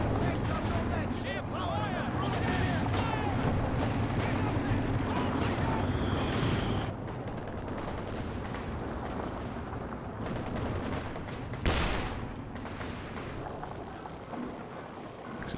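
Gunfire and explosions from a bombing run roll through a 4v4 Company of Heroes 2 match, with bursts of shots and a sharp blast near the end under ongoing battle noise.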